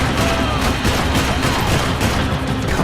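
Rifle gunfire in the Max Payne 3 video game, a loud, dense burst of rapid shots and blasts that fills the whole moment as one continuous fusillade.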